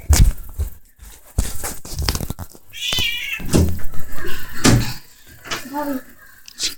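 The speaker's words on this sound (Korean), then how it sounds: "고양이 바비가 들어왔어" A video game cat meows several times in short, rising calls, mixed with thumps and bursts of background noise.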